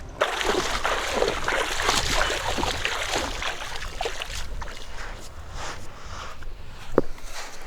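Water splashes and sloshes steadily in a flowing river at a remote bush campsite as a camera is pulled out, with one sharper splash near the end.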